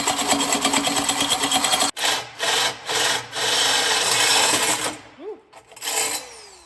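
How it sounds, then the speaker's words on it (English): A 2-inch hole saw on a corded drill grinds through pipe in bursts of rough, close rasping, with short pauses between pushes and the motor whine dropping off near the end. "It's a 2-inch hole saw."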